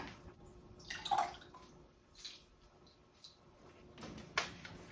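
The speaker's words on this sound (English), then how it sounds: "I'm going to rinse these brushes out." Acrylic paint brushes are rinsed in water, making faint splashing and swishing with a few soft knocks at irregular moments in an otherwise quiet room.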